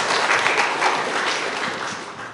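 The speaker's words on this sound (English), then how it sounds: "we'll give Micah a round of applause" A church congregation gives a boy named Micah a round of applause during a Sunday service, a full, loud burst of clapping that holds steady and then gradually thins out.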